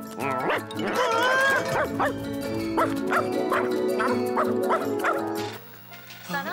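A cartoon dog barks in a quick series of yapping bow-wows with some whimpering yips, loud and close over a faint musical backdrop.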